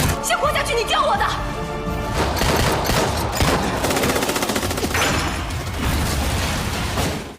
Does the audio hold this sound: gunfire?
yes